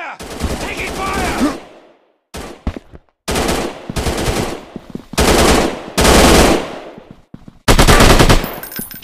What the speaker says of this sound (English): Taking fire! Taking fire!